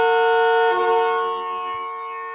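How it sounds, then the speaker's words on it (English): The horn on a Chevrolet C10 truck blares in one long, loud, continuous tone close by, holding steady and then fading slightly toward the end. "it's gonna honk until I get this pad on with the spring"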